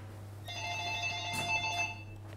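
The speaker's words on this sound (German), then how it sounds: "Telefon." A telephone ringing, a bright electronic warbling ring tone that repeats a couple of times at moderate volume over a steady low hum.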